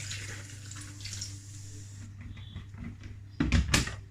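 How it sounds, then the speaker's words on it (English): Carbonated water poured into a bowl of quinoa pancake batter made with coconut oil and agave, a steady liquid trickle with a low hum beneath, ending in a brief louder splash and clatter near the close. "We're going to add 3/4 cup of carbonated water."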